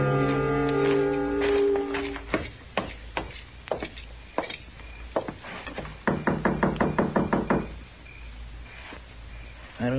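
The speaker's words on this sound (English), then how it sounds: "I thought I heard somebody knock" Knocks on a door in an old-time western radio drama, first a few loud isolated raps, then a rapid burst of sharp knocks, with brief tonal sounds at the start.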